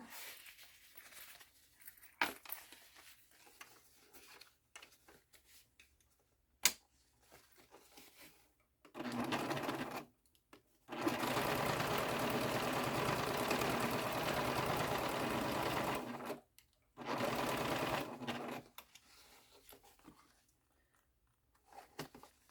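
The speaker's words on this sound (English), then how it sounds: "And then now what we're going to do is baste the gusset." A domestic sewing machine bastes the gusset seam of a fabric wristlet in three sustained whirring bursts of stitching, broken by short pauses and quieter handling sounds.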